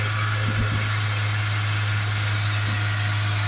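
Steady low diesel idle from a Vauxhall Vivaro 1.6 BiTurbo van with an injection fault and blocked exhaust pressure hose, a constant even hum with faint vibration, close and unchanging, no voices.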